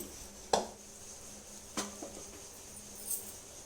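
An iron tawa pan being set down on a stove: a couple of sharp metallic clanks with a softer knock after them, all close and quiet, with no voices.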